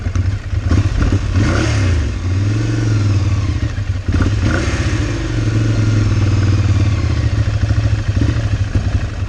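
A Ducati Monster 696 motorcycle engine misfires under load, giving a loud, close, uneven rough drone with stuttering pulses and revving swells throughout.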